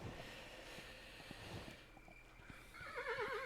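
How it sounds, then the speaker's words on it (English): A horse in the video game Kingdom: New Lands whinnies in a loud, wavering neigh near the end, after soft clip-clop hoofbeats and a faint background hum. "Okay, horsey."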